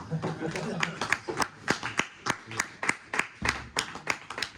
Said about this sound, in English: give a big, humongous clap to the snake man